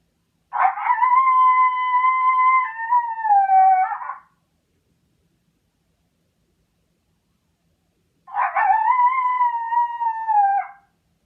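Recorded male coyote howl played through a caller for late-season coyote hunting: two long wavering howls, each about four seconds with a slight pitch dip, separated by several seconds of silence, clear and alone.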